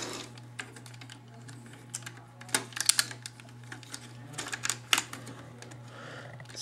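Hard plastic Transformers Jetfire toy pieces are handled and snapped together, producing a string of close, light clicks and clacks with a few sharper snaps over a low steady hum.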